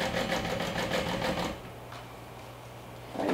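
A sewing machine topstitches about an eighth of an inch from a fold on a front pocket, running steadily and loudly for about a second and a half, pausing briefly, then starting up again at the end.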